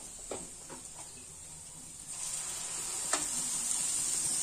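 Tomato paste going into a pan of lauki kofta gravy, a faint steady sizzle that swells after a couple of soft clinks, close and quiet with no talk.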